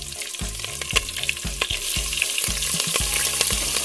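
Spices and green chillies sizzle in hot oil for a pigeon pea biryani, a steady crackling fry broken by rhythmic scrapes and knocks of a stirring spoon against the pot, close and constant, no talking.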